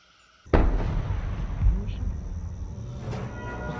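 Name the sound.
cannon fire sound effect in a live trivia show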